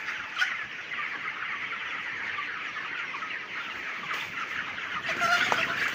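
Chickens clucking steadily in a farm shed during hot summer weather, a continuous mid-level chorus of overlapping hen calls with a few sharper clucks standing out, no talk.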